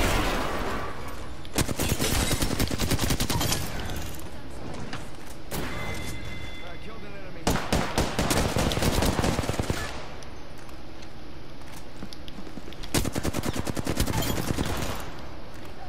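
Apex Legends gunfire rattles in loud, rapid bursts of automatic shots, several long volleys separated by short pauses, up close and dominating the mix.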